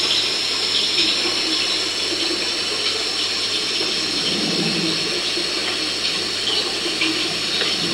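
Water runs continuously inside an old prison, a steady, loud rushing like a tap or pipe flow with no pauses.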